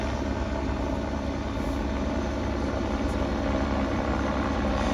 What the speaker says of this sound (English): the helicopter can hover with this load underneath it